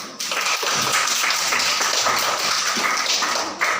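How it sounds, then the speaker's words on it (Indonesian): Second-grade pupils in a Catholic primary school religion class clap their hands together, a close, fairly loud run of crowded claps with a slightly rhythmic, patterned beat lasting a few seconds. "tepuk tangan."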